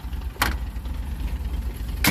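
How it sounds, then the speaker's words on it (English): A Fiat X1/9 engine with a stage 2 cam idles with a low, uneven rumble, broken by two sharp rattling taps. "I think it has a stage 2 cam, so it idles a little choppy."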